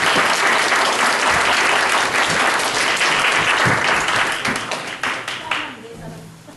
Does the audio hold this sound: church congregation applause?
yes